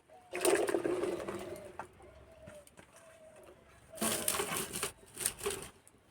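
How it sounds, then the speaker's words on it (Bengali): Chopped tomatoes tumble into a kadai holding a little water, making two clear bursts of crunchy, splashing noise, the first short and the second longer and louder, with quiet moments between. "কেটে রাখা টমেটো দিয়ে দেবো"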